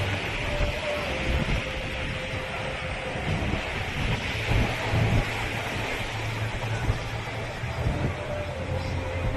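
Strong seaside wind buffets the microphone in a constant roar, with the wash of large waves beneath it and a faint hum running through, steady and loud for the whole stretch.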